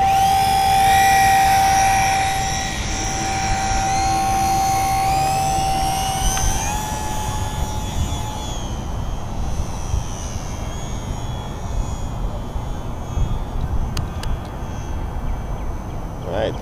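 A Hobby Zone Super Cub LP radio-controlled airplane, fitted with added ailerons, flies overhead with a steady electric motor whine that glides downward in pitch as it passes and fades into the distance, over outdoor background noise.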